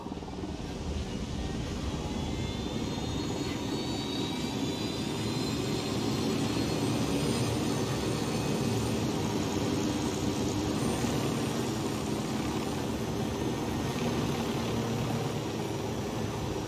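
A steady aircraft engine drone in Ghost Recon Wildlands as the player flies, a continuous even roar with a faint high whine, moderately loud and unbroken.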